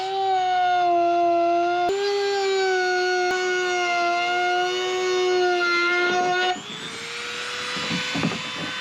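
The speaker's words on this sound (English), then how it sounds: "Now I'm gonna get the Dremel. That's actually pretty thick plastic. And just run it all the way around." A high-pitched Dremel rotary tool whines steadily, its pitch shifting slightly, then drops into rougher grinding as it cuts into thick plastic on a kayak deck; no speech.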